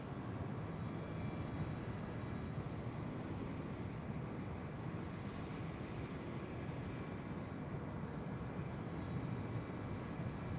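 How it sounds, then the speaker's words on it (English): A TAP Air Portugal Airbus A330neo comes in to touch down on runway 28 right. Its engines make a steady, distant broadband roar that holds even and fairly faint throughout, with no talk. "Looks like TAP Air Portugal, A330 at Neo. About to touch down on 28 right."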